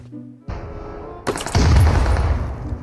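Gunfire in the mobile battle-royale game PUBG Mobile: a quiet start, then a sudden loud burst at about half a second, followed by a denser, louder stretch of rapid, overlapping shots that keeps going to the end.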